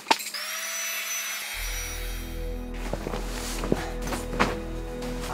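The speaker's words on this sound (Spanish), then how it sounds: "Me he traído este pequeño hinchador. Esto lo odio porque hace un ruido." Small electric inflator pump switches on and runs with a steady loud whirring drone and low hum, close by, with a few knocks and handling sounds and no talk.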